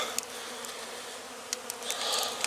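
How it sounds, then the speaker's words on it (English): Honey bees robbing leftover honey from a dead hive, a dense steady buzzing swarm heard up close with a few louder individual bees passing by. "Those bees are trying to get it take back to their hive."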